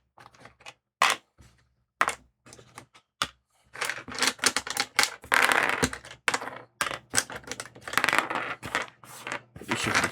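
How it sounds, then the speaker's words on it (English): Dice rolling for a tabletop fantasy game played on a livestream, a series of sharp clattering bursts with short silences between them, then a denser run of rattling tumbles across a hard surface, close and fairly loud. "Let's get all the other dice out of the way."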